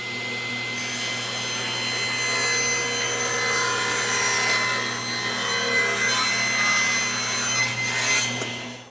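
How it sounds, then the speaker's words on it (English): A power saw rips a taper cut along a wooden board held in a taper jig, a loud, steady whining cut with a motor hum under it, trailing off as the blade clears the wood. "Now we're ready to plug the saw in and go ahead and make this cut off of this side."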